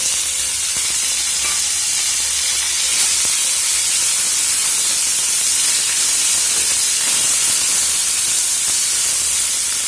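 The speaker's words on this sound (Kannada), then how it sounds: "ಈಗ ಮೆಣಸು ಮತ್ತು ಬೆಳ್ಳುಳ್ಳಿ ಸ್ವಲ್ಪ ಫ್ರೈ ಆದ ನಂತರ ಇದಕ್ಕೆ ಒಂದು ಮುಷ್ಟಿಯಷ್ಟು ಪುದೀನ ತೊಳೆದಿಟ್ಟಿದ್ದೇನೆ ನೋಡಿ ಈ ಪುದೀನವನ್ನು ಹಾಕ್ತಾ ಇದ್ದೇನೆ" Mint leaves hit a pan of frying pepper and garlic for a Mangalore-style horse gram chutney, giving a loud, steady hiss and sizzle that runs unbroken for the whole stretch with no talk.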